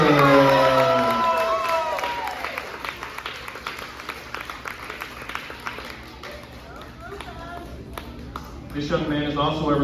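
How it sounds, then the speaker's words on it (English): An end-of-year ceremony audience claps and cheers loudly at first, then the applause thins into scattered clapping. A voice speaks through the middle, and whoops and cheers swell again near the end. "clap it up for Braylon Rogers."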